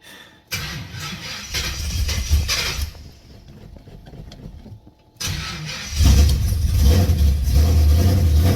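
An LS V8 engine in a wagon cranks and catches, dies after a few seconds, then is cranked again and fires into a loud, rumbling idle close by.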